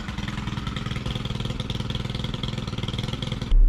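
A long reach hedge trimmer's small two-stroke engine runs steadily up close, a loud, even buzzing drone with rapid pulsing that holds for several seconds before briefly swelling at the end.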